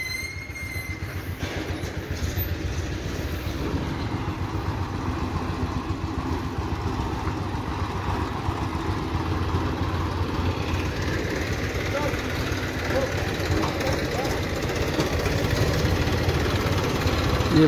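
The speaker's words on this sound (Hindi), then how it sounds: "ये हमारी कैट मशीन जो रेगुलर ट्रैक्टर को लोड कर रही है।" A heavy diesel engine of a JCB 3DX backhoe loader loading mud into a tractor idles and revs steadily, a continuous low rumble with occasional squeals, while voices talk faintly in the background.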